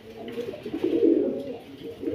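Pigeons of racer, Budapest, Lahori and Laldum breeds coo softly in a low throaty murmur, several overlapping calls rising and fading close by.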